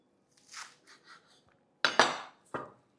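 Fresh coriander is chopped with a knife on a board, with a few soft cuts followed by two sharper, louder knocks, close and otherwise quiet.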